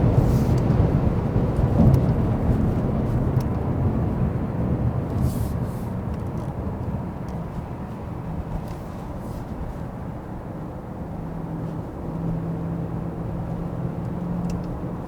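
A Genesis G90 flagship sedan with a V8 and 8-speed automatic, cruising at high speed: a steady, loud, broadband low rumble of engine and road noise from inside the cabin, with a faint tone rising near the end.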